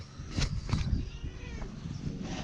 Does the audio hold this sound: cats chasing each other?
yes